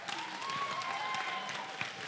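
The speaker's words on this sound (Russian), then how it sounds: "Давайте подарим аплодисменты." Audience applause at the Miss Sumy 2014 beauty pageant final, a brief burst of steady clapping from a crowd with a faint tonal sound running underneath.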